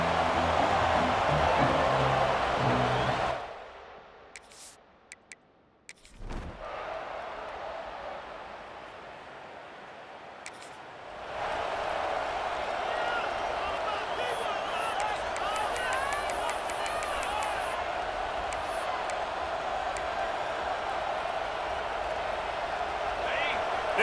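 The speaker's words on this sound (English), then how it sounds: "This crowd trying to make life miserable for this offense." A stadium crowd in the EA Sports College Football 26 video game roars loudly, drops away to a near-silent gap midway, then swells back into a steady noisy din.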